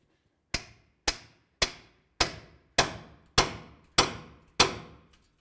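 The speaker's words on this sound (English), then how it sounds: "Now let's grab a pickle fork and a hammer and start separating the ball joint from the knuckle." Eight sharp metallic hammer strikes on a pickle fork, separating a ball joint from the steering knuckle of a 2007-2012 Nissan Sentra, land at a steady pace, each a crisp clang with a short ringing decay, with silence between blows.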